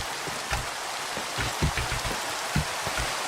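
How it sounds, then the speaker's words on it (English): Minecraft rainfall pours as a constant wash of noise, with irregular patters and soft thuds on surfaces throughout and no voices over it. "I like when it rains in the game."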